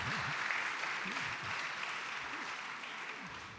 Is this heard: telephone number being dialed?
no